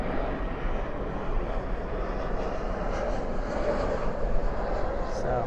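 A large airliner roars steadily on departure at DFW airport at night, a continuous broad engine rumble that holds even and fairly loud throughout with no break.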